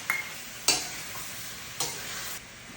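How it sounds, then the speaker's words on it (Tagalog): Tomatoes and onions frying in a pan over low heat, a steady sizzling hiss broken by two sharp stirring scrapes, close and alone with no voices. "Hayaan lang muna natin maluto yung kamatis."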